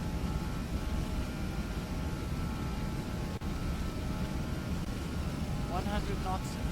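A broad, steady roar of Airbus A320 engines spooling at takeoff power on the runway in Flight Simulator X at Prague, constant and full under intermittent cockpit voices.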